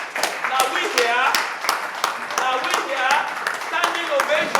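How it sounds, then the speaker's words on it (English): Applause at a school homecoming day at Christ School, Ado Ekiti: scattered clapping that stays steady for several seconds under an announcer's continuous talk. "Please, with a round of applause"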